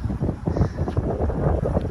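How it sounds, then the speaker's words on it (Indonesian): Strong gusty wind buffeting the microphone at Ulee Lheue beach in Banda Aceh, a continuous loud low roar with no talk. "Ini angin kencang sini"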